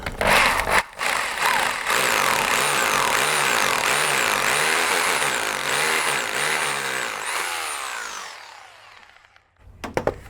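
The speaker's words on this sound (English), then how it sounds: "If you haven't got one of these SDS drills, get one." An SDS drill bores into brick during a DIY carport build with polycarbonate panels, giving a loud, steady grinding roar for about eight seconds. It then winds down, and a few sharp knocks follow.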